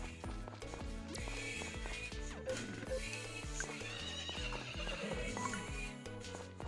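Horse neighing and hoofbeats in the Friends of Mineral Town farming game, set over steady, bouncy background music that runs throughout.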